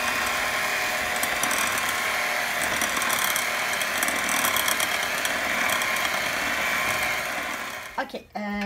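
Chocolate cake batter being gently mixed with an electric mixer makes a continuous whirring, gritty motor drone that cuts off abruptly near the end, with a voice briefly heard.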